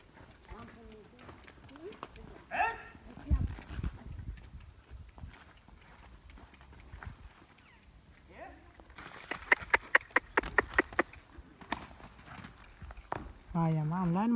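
A horse's hooves clip-clop as it jumps and moves in a line outdoors, the irregular hoof beats bunching into a quick run of strikes partway through while people talk throughout.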